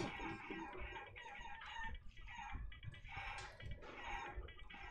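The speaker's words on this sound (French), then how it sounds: "Dégage la poule!" Chicken clucking in the Guacamelee platform game, a run of busy, clipped clucks and squawks mixed with game effects and music at moderate level.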